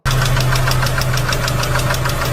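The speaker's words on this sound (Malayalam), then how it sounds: "പതിനാല് പിസ്റ്റൺ പ്രോബ്ലം" A car engine with a piston problem running steadily, with a rhythmic metallic knocking tapping over a low idle hum, close and loud throughout.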